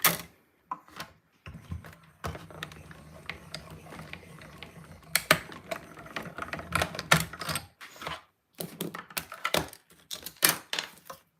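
A mini cut and emboss machine cranks paper through a die, giving a close, steady ratcheting gear clatter in bursts separated by short silences, with no voices.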